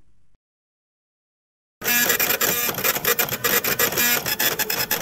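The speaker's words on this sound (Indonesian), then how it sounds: "Oh, suara printer." After a brief quiet gap, a printer starts up loudly with rapid mechanical clatter and rhythmic whirring passes, close by.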